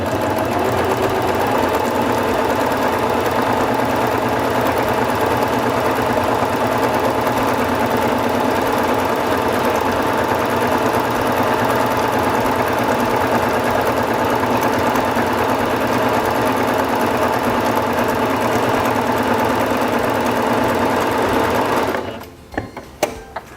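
A Singer Fashion Mate 5560 sewing machine runs a decorative stitch at narrowed width in one steady, continuous mechanical whir with rapid needle rhythm, close and loud, before stopping abruptly near the end.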